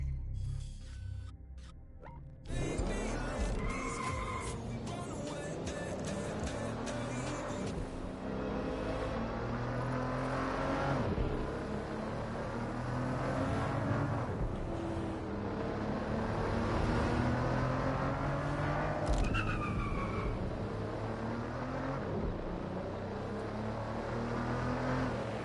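Car in Watch Dogs Legion cruising on auto drive, a steady engine hum that shifts pitch as it speeds up and slows, with occasional passing vehicles and brief tonal effects.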